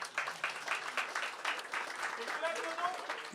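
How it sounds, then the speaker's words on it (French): Audience applause at a comedy show comes in a thin, moderate patter of clapping from the crowd, with a voice speaking over part of it. "Tu vois qu'ils applaudissent moins fort, moins vivement"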